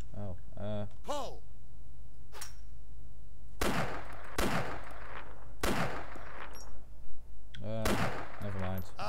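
Sharp single gunshots spaced a second or so apart during shooting training in the Arma 2 video game, loud and close, with voices talking between the shots.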